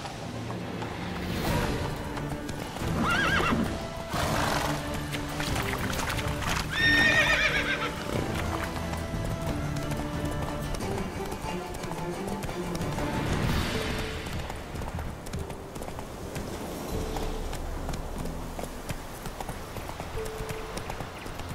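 A horse gallops in The Witcher video game, hooves clip-clopping steadily with a whinny and snorts early on, over a continuous wash of ambient game sound that runs throughout.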